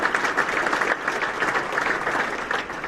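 Close, full applause from diners at a college baseball first pitch dinner, with a brisk, steady patter of many hands clapping throughout.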